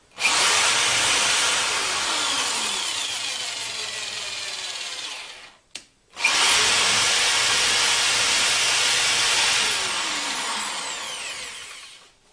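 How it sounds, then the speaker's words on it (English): A power drill drives a screw into a block in two long, steady, loud whirring runs, separated by a brief pause. "I'm just going to use a drill here."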